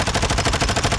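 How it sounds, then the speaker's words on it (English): Rapid automatic gunfire in Modern Warfare 2 strafes a wall, a steady stream of loud, evenly spaced shots that fills the whole moment with no voice over it. "So I'm going to shoot the wall."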